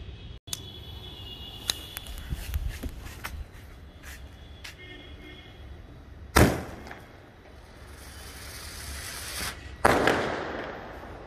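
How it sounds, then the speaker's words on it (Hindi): A Krishna brand Rafu Chakkar sky shot firecracker sputters and crackles with scattered small pops before two sharp, loud bangs, each followed by a fizzing tail, close by and outdoors. "ये दोस्तों कृष्णा ब्रांड का ही है, काफ़ी अजीब सा स्काई शॉट है,"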